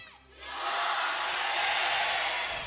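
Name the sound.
esports arena crowd cheering at League of Legends Worlds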